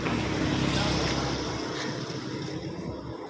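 A Honda Activa scooter rides along the road toward Chennai, with a steady engine drone and rushing wind noise heard from onboard throughout, loud and constant without breaks.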